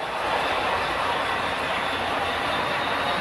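Four model trains run under computer control on the Granite Gorge and Northern layout, giving a loud, continuous rolling rumble with faint wheel clatter and no voices.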